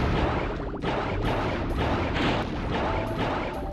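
Rapid-fire weapon shooting in Crash Bandicoot 3: Warped, a dense, loud burst of repeated shots with crashing impacts that runs continuously for a few seconds, with no talking over it.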